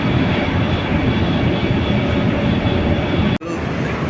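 Train at South railway station in China at night, a loud steady rumble and hum filling the whole stretch, with a sharp brief dropout near the end before the drone resumes.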